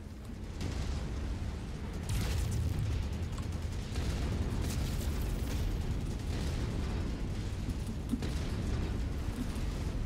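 Explosion of a destroyed mech in MechWarrior 5, a sustained loud low rumbling blast with crackling bursts that roll on for several seconds at steady, dense volume.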